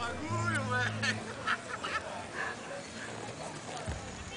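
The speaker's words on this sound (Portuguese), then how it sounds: "Tá dando um pinote o cavalo." A horse's hooves clop as it bucks during a ride in Iaras, close by and mixed under excited voices talking throughout.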